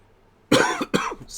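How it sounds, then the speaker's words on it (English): A person coughs twice in quick succession, sharp and close, after a moment of near silence. "I can't stop coughing here."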